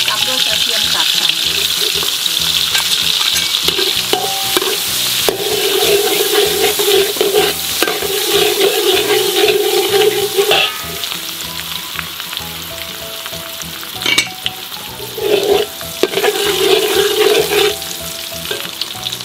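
Butter and minced garlic frying in a hot pan, a loud steady sizzle with stirring and scraping throughout, briefly easing then picking back up near the end.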